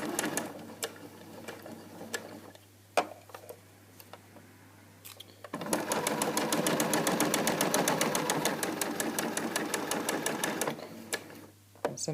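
A sewing machine stitches a fabric heart, with scattered clicks and handling sounds first, then a steady, rapid needle run for about five seconds that stops before the end.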